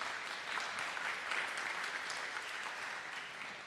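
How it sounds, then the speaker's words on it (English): Sustained applause from parents gathered at a fall sports meeting, a dense, even wash of clapping that holds steady throughout before easing slightly at the end, with no speech. "let's give Costa a round of applause."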